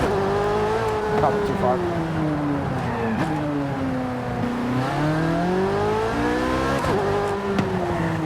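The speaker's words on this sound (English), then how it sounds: "I'm so glad they changed the sound of the car." Car engine in the Forza Hot Wheels DLC video game, revving steadily with rising and falling pitch and occasional tire squeal, loud and continuous while a person talks briefly over it.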